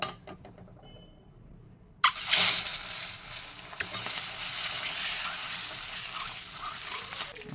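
An egg hits a hot wok and bursts into a loud, steady sizzle and crackle after a brief quiet moment, frying on alone without any talking.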